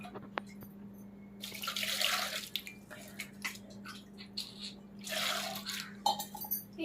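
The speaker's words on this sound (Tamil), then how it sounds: "தண்ணி வந்து ஒரு 2 சொம்பு ஊத்திக்கோங்க ஃப்ரெண்ட்ஸ்" Water is poured into a pot of coconut fish curry in two short splashing bursts separated by a pause, close and moderately loud. A faint, steady hum runs underneath.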